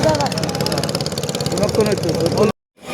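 A boat engine drones steadily on the Titas river in Brahmanbaria, a close, rhythmic mid-pitched throb that cuts out abruptly near the end.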